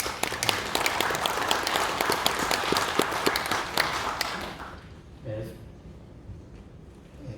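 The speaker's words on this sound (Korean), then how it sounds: "박수 한번 부탁드립니다" A church seminar crowd gives a round of applause, a loud dense burst of many clapping hands that fades out after several seconds, leaving a quiet room with faint murmuring.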